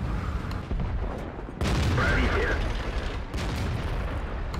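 Heavy tank cannon shots in a World of Tanks-style game with an Object 140 on the Serene Coast map, several booming blasts with rumbling tails, one especially loud around the middle.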